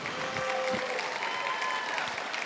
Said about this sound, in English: Stand up, give your parents a round of applause.